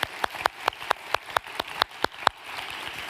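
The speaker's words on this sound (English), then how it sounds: "we should give applause to Petra" Sparse, steady clapping from one or a few people at an anniversary event for a Finnish child and family support foundation, roughly a dozen evenly spaced claps, fairly faint, then dying away.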